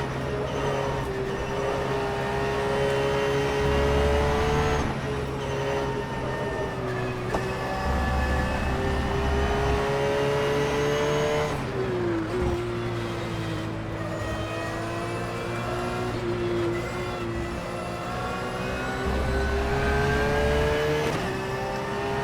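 A GT3 race car in the rFactor 2 sim racing game laps the Mugello circuit, its engine droning loud and steady throughout, the pitch rising and falling as the car accelerates and shifts gears.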